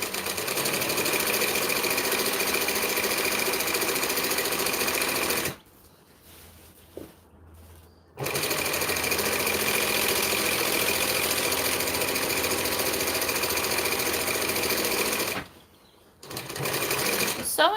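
A sewing machine stitches a shade sail in long steady runs, loud and close, stopping twice briefly before starting up again.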